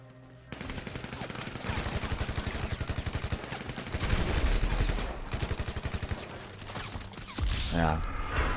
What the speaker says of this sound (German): Muss ein ganzes Magazin drauf leeren